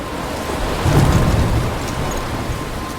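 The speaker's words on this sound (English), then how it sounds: "I'm trapped in a storm." Steady, heavy rain pours down during a thunderstorm in the Life is Strange video game, with a low rumble of thunder swelling briefly and then fading under the constant hiss of the downpour.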